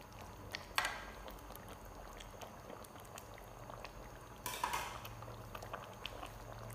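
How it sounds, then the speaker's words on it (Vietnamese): A pot of vegetarian duck neck stew with fermented tofu, onions and scallions coming back to a boil, a quiet steady bubbling with a couple of light utensil clinks, no talk. "nồi của mình nó đã sôi trở lại rồi"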